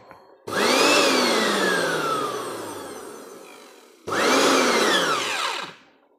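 A Philips blender running after its switch was repaired, a loud whining motor that spins up, holds and winds down, then starts again for a second shorter run that dies away.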